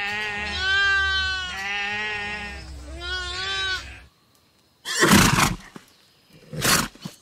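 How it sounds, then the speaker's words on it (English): A horse gives a long, wavering whinny in several rising and falling pulses, then two loud breathy snorts after a brief pause, all close and unaccompanied by speech. "Horse."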